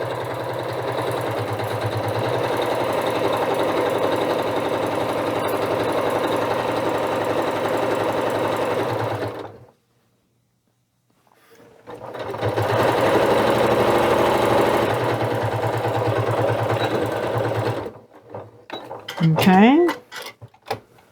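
A sewing machine stitches a Christmas stocking seam with a 3/8-inch allowance, running in a fast steady whir for several seconds, pausing briefly, then running again before stopping with a few clicks and handling sounds.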